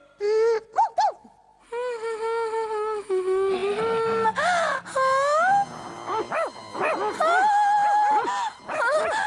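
A cartoon dog yips, whimpers and wails in a string of high, bending cries, close and loud, with brief gaps between bursts and a voice speaking briefly among them.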